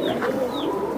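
A pair of silver Giribaz pigeons coo in soft, close murmuring calls over a steady low background hum, with a couple of brief higher call notes.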